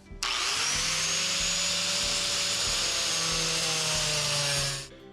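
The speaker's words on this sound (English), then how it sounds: "So I'm trying to drill the hole in the end of these bolts here for my R-clips." A power drill bores a hole through the end of a bolt for an R-clip, a steady whining, grinding drone that starts abruptly, holds for nearly five seconds, then winds down.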